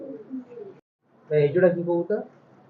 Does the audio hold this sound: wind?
no